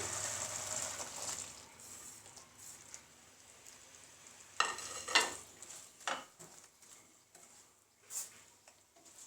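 Sliced coconut strips cooking in a pan for sweet coconut, with a soft sizzle, scraping stirs and a few sharp clinks of utensil against the pan, near and intermittent.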